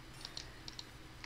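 Computer keyboard keys pressed while playing Minecraft Dungeons on mouse and keyboard: a handful of quick, faint clicks in irregular bursts, close by, with no talk.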